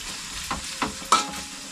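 Kandoli fish frying with fresh onion in a pan, a steady sizzle broken by three soft scraping stirs that grow slightly louder toward the end.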